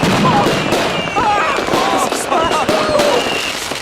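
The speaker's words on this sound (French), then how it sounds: "Pourquoi les feux d'artifice ont explosé?" Costly Cobra-brand fireworks bursting close by in a rapid, dense barrage of cracks and pops, loud and continuous throughout, with excited voices shouting over the blasts.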